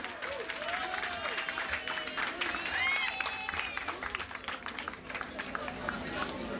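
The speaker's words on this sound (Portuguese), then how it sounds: "Aplausos sonan" A crowd claps steadily at the opening of a Karnaval Banda Bou event, with brisk applause lasting several seconds, some whistle-like tones, and voices speaking over it.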